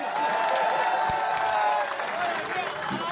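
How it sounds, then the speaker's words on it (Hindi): A rally crowd applauds a politician, a broad sustained roar of clapping and cheering that holds steady across the whole stretch, with tonal voices or music mixed in over it. "ऐसे रसूखदार नेता के लिए जोरदार तालियां"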